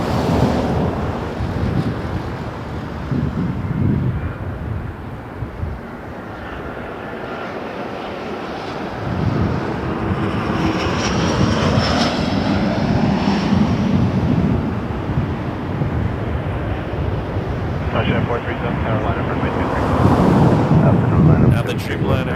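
A Lufthansa airliner at Toronto Pearson Airport gives a sustained, swelling jet roar heard from a distance, with gusty wind buffeting the microphone and a voice talking over it.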